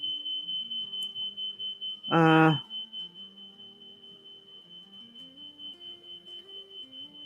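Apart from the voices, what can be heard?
fire alarm beeping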